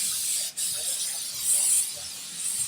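Cooking spray hissing onto a pan, a steady bright airy spray with a brief break early on and a slightly stronger burst midway, close and fairly loud with no talk.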